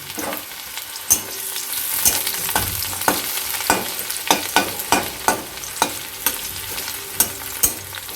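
Steady oil sizzle of onions frying for hilsa pulao on medium-low heat, with a regular series of sharp scraping clicks from stirring roughly every half second.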